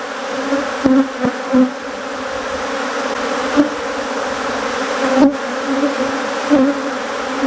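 An Africanized honeybee colony hums steadily up close during a queen introduction, a dense continuous drone with a few brief louder swells as bees pass near.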